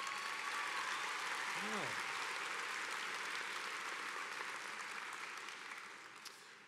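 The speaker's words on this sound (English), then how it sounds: "Give yourself a big round of applause." Graduates of a 2015 May nursing and health college commencement ceremony applaud in a broad, sustained roar of clapping from a large crowd that slowly fades, with a brief whoop and a short spoken word.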